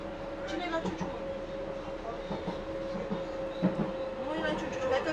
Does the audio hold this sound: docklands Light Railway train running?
yes